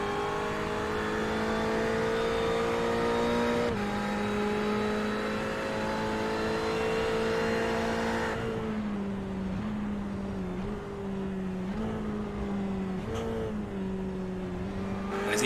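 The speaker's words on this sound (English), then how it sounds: "we ride on board with Stock coming out of Williams' corner" A GT3 race car engine drones steadily and loud in an onboard view from the iRacing game at Snetterton, pitch holding high then dipping and rising again through gear changes as it leaves a corner.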